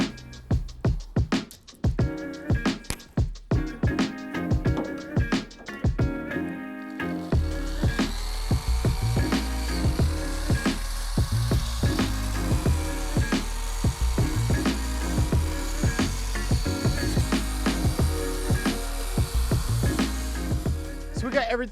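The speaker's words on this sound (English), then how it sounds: "So we got everything off with the wire brush, and now you can see we exposed all the spot welds" A wire brush scrubs material off the burnt roof of a 1965 Ford Mustang. The scraping comes first as choppy strokes, then as a continuous loud whirring grind that holds steady to the end, with brief talk early on.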